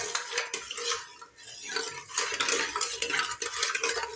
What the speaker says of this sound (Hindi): अब इसमें डालेंगे हम रूह अफ़ज़ा। आप चाहें तो इसमें आप रोज़ सिरप डाल सकते हैं और इसको करेंगे मिक्स